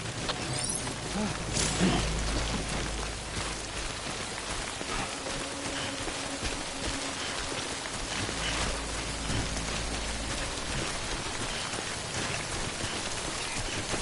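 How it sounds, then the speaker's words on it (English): Rain in the video game Death Stranding falls steadily as a dense, even patter throughout, with no other prominent sound. "Good thing it was raining"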